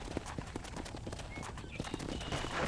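Horse hooves clip-clop steadily in Red Dead Redemption as a rider heads toward a stable, the rapid footfalls close and continuous under a low background bed.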